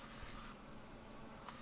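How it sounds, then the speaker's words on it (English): Bug spray hisses from a can in the video game Scary Tales, a short broadband spray burst that stops, then a second brief puff near the end, close and alone. "Bug spray."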